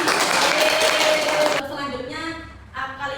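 Students in an elementary school math microteaching class clap for a classmate, a dense burst of applause lasting under two seconds before a teacher's voice takes over.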